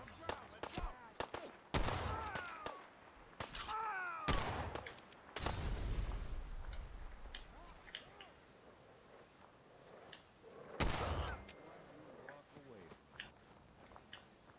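Grenade explosions and bursts of gunfire erupt in Fallout 4 combat, several loud booming blasts spaced across the stretch with rattling shots and debris between them, while a player talks over the game sound.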